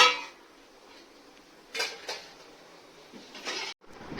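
Dishes and utensils clatter in a home kitchen as rice is served onto plates for lunch, with a few sharp clinks and knocks over a low, steady room background.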